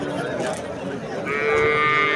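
A pregnant cow moos at a busy livestock market in Sirdaryo, one long sustained low call rising clearly over the background crowd noise.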